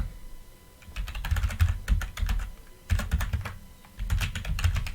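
Rapid keystrokes on a computer keyboard as an email address is entered, close and clear, in three quick bursts separated by brief pauses, with no voices.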